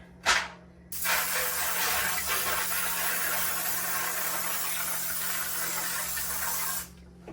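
After a quick short burst, a can of Pam cooking spray sprays in one long, steady hiss lasting about six seconds, close up, then stops abruptly.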